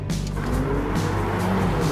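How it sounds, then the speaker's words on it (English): Mercedes-Benz A45 AMG hatchback accelerating hard, a loud, close engine roar with a rising tone held throughout, no talk. "Best sounding car ever."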